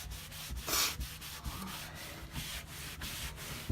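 A rag buffs wax into a painted wooden headboard with repeated close rubbing strokes in a soft, uneven rhythm, one louder swipe standing out early.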